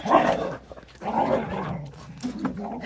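Several dogs at a home bark and growl close by in uneven bursts, with gruff, throaty yaps overlapping in a busy, loud cluster.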